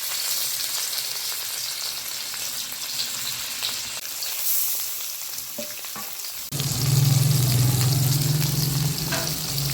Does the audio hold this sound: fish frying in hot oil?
yes